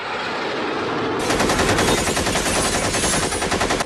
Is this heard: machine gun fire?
yes